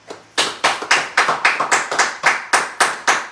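A church congregation claps in unison to acclaim Jesus during a Sunday service, about a dozen sharp, evenly spaced claps in a steady rhythm, loud and close, with no voices over them.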